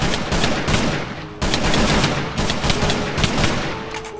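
Video game gunfire, loud rapid automatic bursts fired close, with a short pause between two long volleys and no talking.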